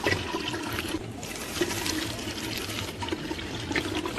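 Liquid wheat kurdai batter is strained through cloth, giving a continuous close rushing, watery pour with soft trickling that stays steady throughout.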